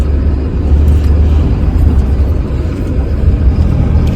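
A BharatBenz BS6 truck engine rumbles steadily at close range while the vehicle is driven in to park, a continuous low droning hum with no voices.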